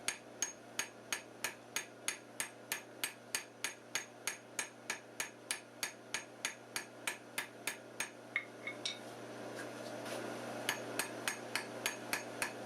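Rapid, evenly spaced hammer blows ring out on hot steel stock, about two per second, crisp and close, then blur into quicker, denser tapping near the end.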